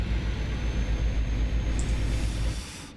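A Caterpillar diesel truck engine in a budget trucking video game drones with a low, rumbling, steady hum, fading out abruptly at the end with no talk over it.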